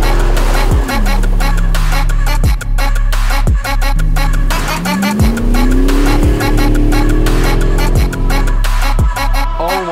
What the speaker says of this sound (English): we're about to do some drifts in the V8.